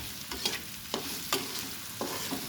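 Stir-frying for a potato and bitter gourd pulao, with dal and a little sugar added: a steady sizzle broken by about five rhythmic spatula scrapes against the pan, close and clear.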